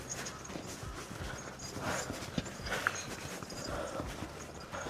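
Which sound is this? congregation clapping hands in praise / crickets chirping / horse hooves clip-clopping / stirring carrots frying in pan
horse hooves clip-clopping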